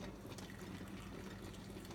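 An apple cider vinegar mixture being poured into a canning jar of jalapeño peppers, a soft, faint continuous trickle up close.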